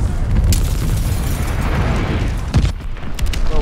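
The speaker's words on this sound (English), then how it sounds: "Friendly glide bomber incoming!" Heavy booming blasts from a friendly glide bomb strike in a military shooter game roll on continuously, with a sharper loud impact near the end and no talking.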